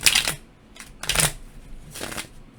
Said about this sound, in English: I mix them up. I shuffle them up.